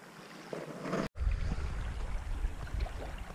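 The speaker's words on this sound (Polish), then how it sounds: "Pięknie płynie woda, fajny dźwięk, szum fal" Flowing water with lapping waves at an outdoor fishing spot, a steady near rush of water after a brief dropout, with no talking over it.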